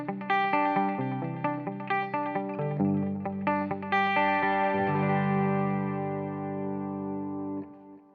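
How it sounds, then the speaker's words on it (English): Electric guitar run through a tape echo delay on a Fender Tone Master Pro, a melodic phrase of plucked notes with repeating echoes trailing each one, building into a sustained wash that rings out before cutting off near the end. "the next effect in the line is the tape echo"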